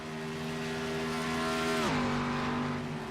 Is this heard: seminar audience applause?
no